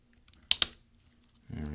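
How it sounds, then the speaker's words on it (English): A key on a mid-2010 13-inch MacBook Pro 2.4 GHz keyboard is pushed off its plastic scissor hinge, giving two quick, close plastic clicks; a voice starts talking just afterward. "we're going to take this key and push it to the right"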